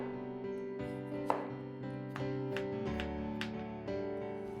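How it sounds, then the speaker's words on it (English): A knife slices the core of Chinese broccoli into strips, giving a series of crisp, irregularly spaced chops on a board, close and clear over soft background music. "Then, cut the core into strips."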